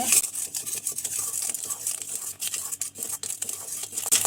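Cooked jaggery syrup stirred in a pan off the heat to cool, with continuous scraping and clinking of a utensil against the pan, soft and close, with no voices.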